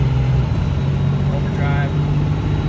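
A truck with a Cummins 12 valve diesel engine drones steadily under full throttle acceleration from inside the cab, a loud continuous engine hum with a brief shift in pitch, with talk over it.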